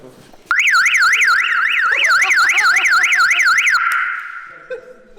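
A loud car alarm whoops in a rapid rising-and-falling electronic wail, then cuts out, leaving a fading tone and faint background noise.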